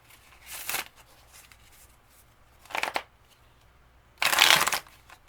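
Three separate bursts of tarot cards being riffled and shuffled, quick crisp rustling with pauses between, close up and no voices.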